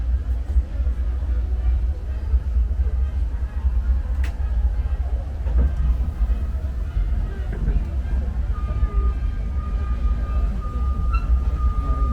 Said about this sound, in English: Thanks for joining us on the Disneyland Railroad.